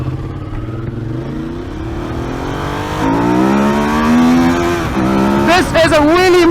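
A Ducati Monster 821 motorcycle engine revs and accelerates hard through climbing gears on a road in India, loud and close throughout with a rising pitch, then sharp surging revs near the end.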